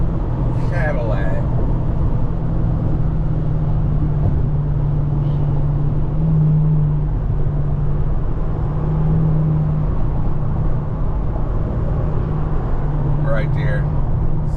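A Cadillac drives past at a cars and coffee show, its steady engine rumble and road whir sustained nearby under people talking.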